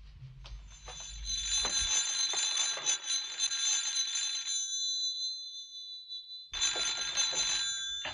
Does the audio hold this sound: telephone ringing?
yes